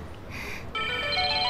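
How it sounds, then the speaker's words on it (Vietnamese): A mobile phone ringtone starts partway through and carries a bright repeating electronic melody at steady loudness in a quiet indoor room. "Điện thoại của anh kìa, nghe đi."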